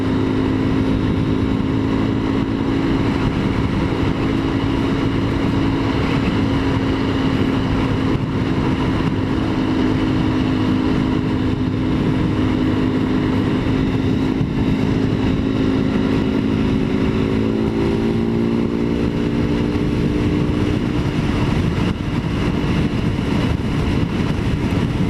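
A motorcycle cruising on a Japanese highway, its engine droning steadily with a slowly shifting pitch under a constant roar of wind and road noise, loud and continuous with no voices.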